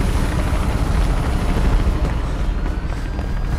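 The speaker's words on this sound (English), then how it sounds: "There's a helicopter there." A helicopter in the video game Mirror's Edge drones steadily as a loud, dense rotor roar that fills the whole clip without letup.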